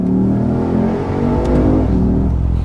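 A Lexus IS F V8 accelerates hard and close, its engine rising in a loud, continuous roar with strong harmonics and a brief dip mid-pull before it surges on.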